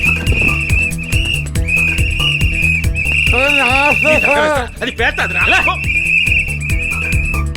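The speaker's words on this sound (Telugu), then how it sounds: "వీళ్ళేదిరా ట్రాఫిక్ పోలీసు వాళ్ళ లెక్క విజిల్ చేసుకుంటా తిరుగుతుంటారు" A shrill whistle, blown like a traffic policeman's, in a Telugu comedy film scene. It sounds as a steady piercing tone in repeated stretches under lively dialogue and busy background music.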